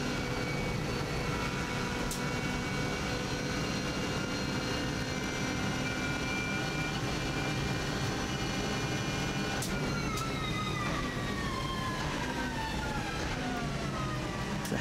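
An engine under hard power on a fast Isle of Man TT lap, close and constant, with rising and falling pitch at each gear change and no talking.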